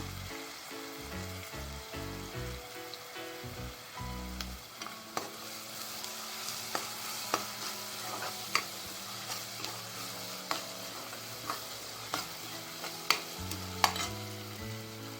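Onion sautéing in a pan with curry leaves and chillies, a soft steady sizzle broken by repeated scraping stirs, close by, under background music.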